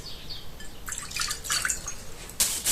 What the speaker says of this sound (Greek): Σε ένα καθαρό σκεύος θα βάλουμε 150 γραμμάρια χλιαρό νερό